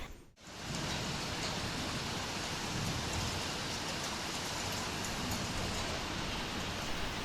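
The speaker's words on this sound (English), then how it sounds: "the rain has started and it is always feel relaxed when it rains" Steady rain falls continuously, a dense hiss of drops on surfaces close by, after a brief quiet moment at the very start.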